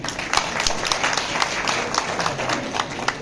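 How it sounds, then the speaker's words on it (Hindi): Audience applause at a councillors' swearing-in ceremony, a steady wash of many hands clapping with scattered louder claps, moderately near and continuous throughout. "इसके लिए तालियां बनती हैं।"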